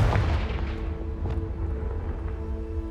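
A Confringo fire spell in Hogwarts Legacy blasts out with a loud, close burst at the start, followed by lingering crackling rumble and a few smaller thuds as it dies away.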